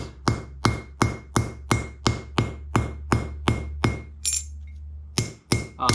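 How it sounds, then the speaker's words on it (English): A hammer strikes a troy-ounce silver bracelet in a steady, even rhythm of about a dozen ringing metallic blows, each with a short bright decay, then a brief pause and a few final strikes, close and alone. "I'm just going to take the side, hammer it down a bit."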